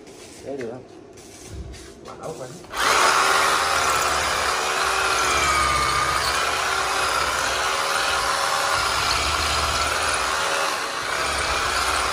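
A power drill runs continuously and loudly while a supercar mould is made for a Koenigsegg, a steady whirring drone that starts abruptly after a few seconds of quieter shop noise and voices.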